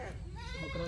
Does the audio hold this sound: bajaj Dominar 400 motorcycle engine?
no